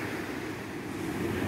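Indian Ocean waves at high tide washing onto the beach at a Nusa Dua resort in Bali, a soft steady wash of surf with light wind, faint and without voices.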